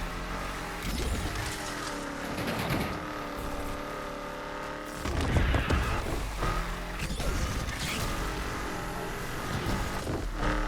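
Ford Mustang Foxbody engine revving and accelerating in the racing game Need for Speed Unbound, a steady loud mechanical drone with shifting harmonic tones and a surge of power midway, no talking over it.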